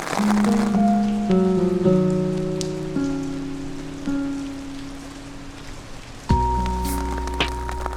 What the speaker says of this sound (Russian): Ждем, пока дождь прекратится.